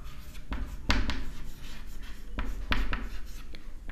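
Numbers being written by hand during a maths lesson produce close, scratchy pen strokes in short bursts with brief pauses between them.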